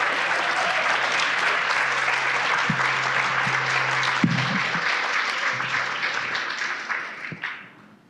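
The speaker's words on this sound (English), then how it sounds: "Everyone, please give a round of applause to Blanca, Priscilla, Moses, and Jack." Warm audience applause at a graduation-style celebration, a steady dense wash of clapping with a low hum underneath, fading out over the last second or two.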